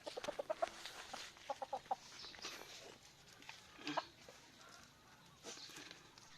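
Faint, sparse clucking from a chicken, a few short bursts of clucks spaced apart against a quiet background.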